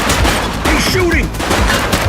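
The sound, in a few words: gunfire from the video game The Precinct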